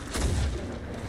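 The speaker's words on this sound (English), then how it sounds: "I managed to shoot some fireworks." A firework launched in a video game lands as a single muffled, low boom that rolls briefly and then fades into a quiet game background.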